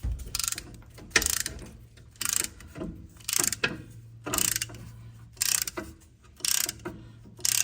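A tool pushes the brake caliper piston back in on a 2012 Ford F-150, rapid ratcheting clicks in repeated bursts with short pauses, close and fairly loud, no talk.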